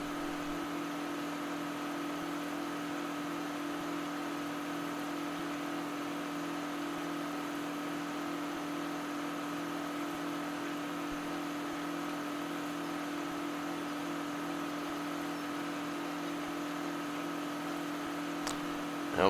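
A simulated tractor engine from Farming Simulator 2013 runs steadily at a constant hum, with a faint, even drone and no notable changes until a small click at the very end.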